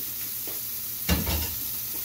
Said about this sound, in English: when you add it, you hear that instant sizzle, that means it's good